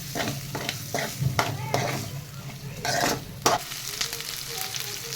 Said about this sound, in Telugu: ఫ్రై చేసుకున్న మటన్ ఒక 2 నిమిషాలు సిమ్లో పెట్టుకొని ఫ్రై చేసుకున్నామండి